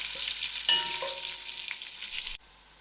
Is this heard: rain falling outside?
no